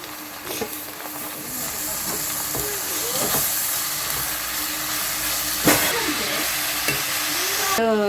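Chopped onions fry in hot oil in a home kitchen while being stirred, a steady loud sizzle and hiss broken by repeated scraping strokes of a spoon against the pan.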